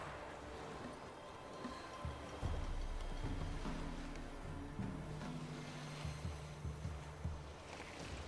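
Small boat with a 10-horsepower motor moving across water in The Witcher 3, a low, faint engine drone with sloshing water and wind, steady and distant-sounding with slight shifts in pitch.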